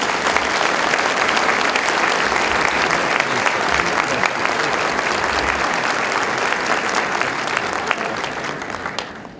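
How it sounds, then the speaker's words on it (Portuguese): Sustained, loud applause fills an evening literary event honoring author Rubem Alves, dense clapping from a large audience running steadily throughout before tapering slightly at the very end. "Eu peço que vocês deem uma salva de palmas."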